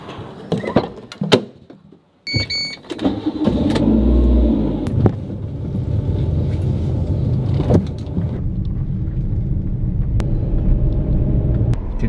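Car engine on a drive to the market, starting with a few knocks and a door sound, then a steady close rumble of the running engine and road noise that holds to the end.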